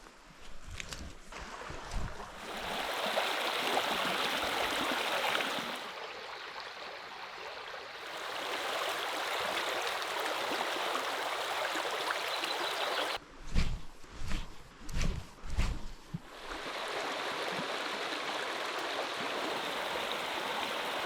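Steady broadband rush of a shallow, low-water trout stream flowing over stones, continuous and close, with a few brief clattering knocks partway through.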